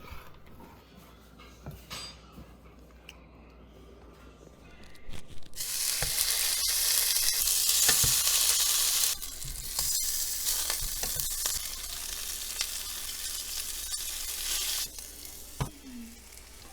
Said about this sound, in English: throw it into the pan to sear both sides